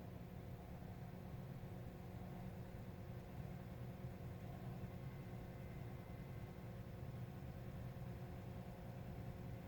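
A DC machine driven by a prime mover runs steadily at 600 rpm, giving a faint, even motor hum with fixed tones and a low whir that holds without change the whole time.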